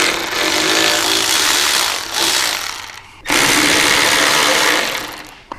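Power tool loosening the fender bracket nuts on a motorcycle's rear fender, two loud whirring bursts separated by a brief pause, close up with no talking.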